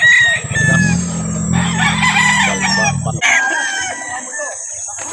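Roosters crow loudly and close by, one long call after another, while chickens cluck and squawk around them, likely gamefowl such as Sweet Kelso in Calauan, Laguna.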